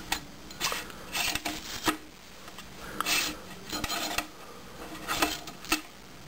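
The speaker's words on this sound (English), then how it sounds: "that sound was made by a Slinky" A Slinky toy dropped and handled up close gives a series of dry, raspy metallic scrapes and rubs in irregular bursts, with no voices.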